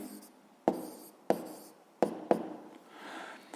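A pen or chalk writes a physics formula on a board for a seventh-grade lesson, giving four sharp taps and short strokes spaced about half a second apart, with soft scratching after them and no talk.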